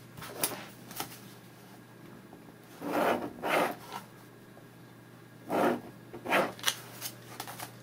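A pen underlining on paper makes several short, faint scratchy strokes in small clusters, with quiet stretches between them.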